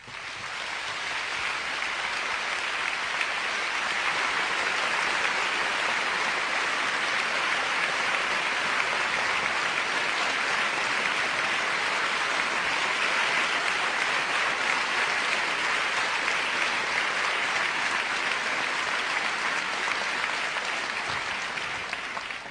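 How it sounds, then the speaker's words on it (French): A theatre audience at the Prix de Lausanne 2006 ballet prize-giving ceremony gives sustained, full-house applause for the competing dancers, a thick, unbroken roar of clapping lasting over twenty seconds at an even level. "J'aimerais que vous commenciez par applaudir très fort les danseurs qui sont à court, derrière."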